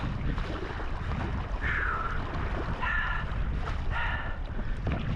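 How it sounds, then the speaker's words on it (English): Choppy lake water on Diablo Lake splashes and slaps against a kayak amid steady wind noise, with waves rebounding off a point and doubling up, a continuous close wash with brief higher tones. "We got waves bouncing off the point there, coming back too, so they're doubling up on each other."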